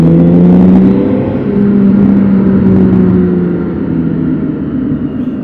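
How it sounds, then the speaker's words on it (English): A 2023 BMW K1600GTL motorcycle engine revving as the throttle is wound open, a loud, close, smooth droning roar that swells at the start and then settles into a steady hum as it gradually eases off. "Wind open the throttle."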